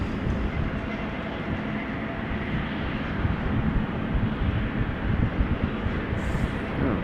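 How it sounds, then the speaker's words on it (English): KLM Boeing 777-300 taxiing at Amsterdam Schiphol, a steady low engine rumble that swells slightly, heard from a distance without talk. "This is KLM flight 744 on the move, 777-300"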